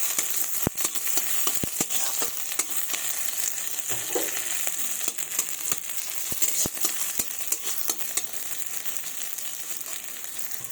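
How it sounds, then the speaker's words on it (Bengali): Panch phoron spices fry in hot oil with an even crackling sizzle, broken by sharp pops and taps at irregular moments over about eleven seconds. "এবার এগুলোকে একটু লাল লাল করে ভেজে নেব"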